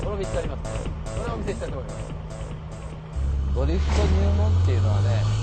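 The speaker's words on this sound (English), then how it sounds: "This drifting relies all on the e-brake." A car drifting sideways on the e-brake with the engine droning and then revving harder, a tire squeal rising through the second half, under steady talking.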